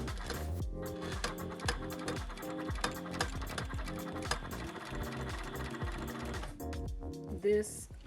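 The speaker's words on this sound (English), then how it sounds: "So now we can sew those two straps on and those two straps on." Sewing machine stitching straps onto an upcycled harness, a rapid rhythmic clatter of needle strokes running nearly continuously up close, with a brief stop near the end.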